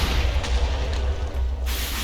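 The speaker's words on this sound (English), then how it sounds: "Is the explosions happening directly under him and pushing him upwards?" Explosions in a Minecraft mob battle against aggressive Thaumcraft bosses: a continuous loud, dense rumble of blasts with deep low-end booming and broadband crackle, near and sustained throughout, with no talk.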